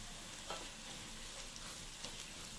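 Garam masala, turmeric, coriander-cumin powder and salt get stirred into frying food in a pan for a green pea sev usal. There is a faint, even sizzle with a couple of soft scraping strokes.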